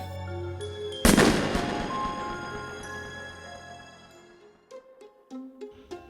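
A single loud gunshot sound effect cracks out in a spooky haunted-hotel story, its sharp blast ringing and fading slowly before quieter tones follow.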